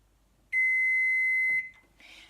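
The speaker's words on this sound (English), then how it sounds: "this microwave beeps every 2 minutes after it has finished if you've forgotten to open the door and take your food out or cancel and stop the cooking" A Russell Hobbs compact digital microwave, model RHM1714, gives one long, loud, steady electronic beep that lasts about a second, then cuts off. A short burst of faint noise follows.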